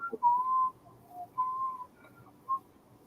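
A person whistles a few melodic notes: a long tone, a short dip, another long held note and a final brief chirp, quiet and alone against a faint background.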